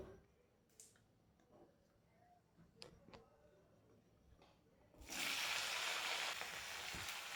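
Chopped Malabar spinach stems and vegetables hit hot oil tempered with bay leaves and five-spice, bursting into a loud, steady sizzle after a few quiet seconds of faint crackles and clicks.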